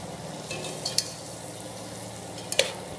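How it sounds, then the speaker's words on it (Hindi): Onions stirred through a frying pan over a medium flame, a soft steady sizzle with a few light scraping clicks of the spoon near the middle and end. "अच्छी तरह से प्याज को इसमें मिक्स करना है।"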